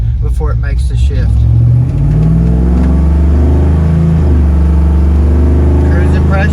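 A car with a freshly built and tuned automatic transmission pulls along on a test drive, its engine droning low and loud with a shift in pitch around the change, while someone talks over it.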